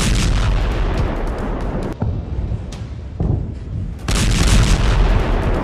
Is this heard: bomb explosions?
yes